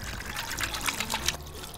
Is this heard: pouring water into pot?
yes